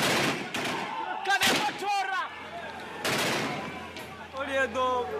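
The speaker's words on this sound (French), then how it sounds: "Cette fois, ils tirent à balles réelles sur les manifestants. Des tirs tendus à la Kalachnikov." Kalashnikov gunfire as police fire live rounds at protesters in Burundi: sharp, loud shots crack out at irregular intervals while shouting voices carry between and over the bursts.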